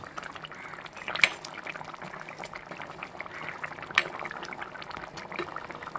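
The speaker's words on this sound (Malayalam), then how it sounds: "നന്നായിട്ട് തിളച്ച് വറ്റിക്കൊണ്ടിരിക്കുകയാണ് നമ്മുടെ തലക്കറി" A thick fish head curry bubbles and simmers steadily in a clay pot, a soft continuous sputtering broken by a couple of sharper pops.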